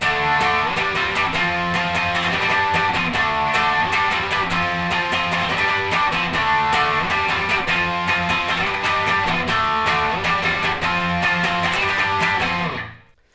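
A continuous electric guitar passage with a dense, steady strummed rhythm and repeated chords, holding an even level before cutting off abruptly at the end.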